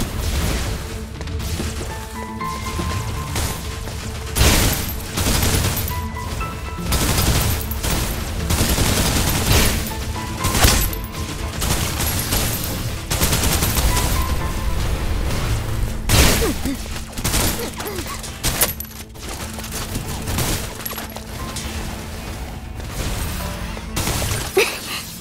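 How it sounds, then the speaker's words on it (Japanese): Sustained suppressive gunfire in the Snowbreak: Containment Zone game, dense bursts of rapid shots and crashing impacts rolling on loudly for the whole stretch with only brief dips. "制圧射撃を始める。"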